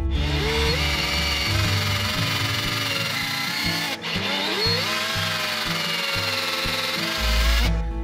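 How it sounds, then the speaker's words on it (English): Power drill boring angled holes through a baked bone-claw prop piece for a Wolverine costume, a steady loud motor whine with pitch shifts and a brief stop midway, close and continuous with no talk. "you want to drill your second and third holes at an angle"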